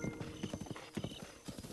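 Quick, rhythmic clip-clop of hooves as a horse gallops at an even pace, fairly close and alone, in the video game Zelda: Breath of the Wild.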